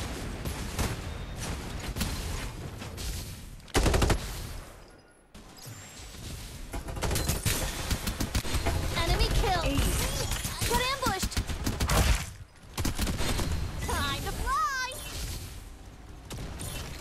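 Rapid bursts of gunfire and explosive crashes from the battle royale video game Farlight 84 during a squad fight, dense and loud, mixed with game announcer voice lines and a player talking over it.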